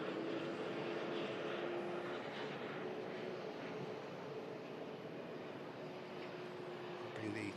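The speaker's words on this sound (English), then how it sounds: "Over there with the British Airways is the Gulf Air. Just on a steady takeoff roll." A Gulf Air airliner rolls down the runway for takeoff, its engines a broad, steady, distant roar that holds evenly throughout, with a voice talking over it.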